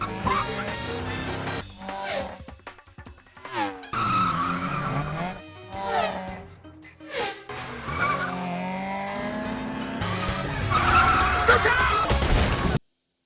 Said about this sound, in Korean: 화려한 운전 실력으로 그들을 따돌리는 데 성공한 빅터는 자신이 생각한 가장 안전한 곳을 향하게 됩니다